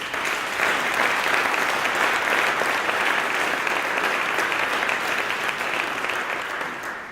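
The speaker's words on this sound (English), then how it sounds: "If I could have one more big round of applause for our award winners tonight" Sustained applause from the audience at a fire department's annual meeting and awards ceremony for the award winners, a broad even roar of clapping that tapers slightly at the end.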